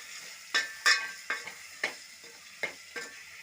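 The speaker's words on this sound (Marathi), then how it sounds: "बघा टोमॅटो टाकून घेतली मी. नंतर परतवून घेते मी सगळं." Tomatoes with chili powder sizzle in a pan under a soft frying hiss while a spoon stirs them, scraping and clinking against the metal in about seven distinct strokes.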